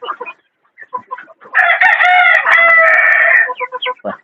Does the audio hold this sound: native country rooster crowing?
yes